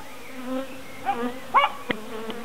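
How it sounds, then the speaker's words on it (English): Dark honeybees crawl and hum over a beekeeper's hands at an open nucleus hive, a close, steady buzzing drone with a few louder passes of individual bees. "Lovely black bees. Well, they're dark."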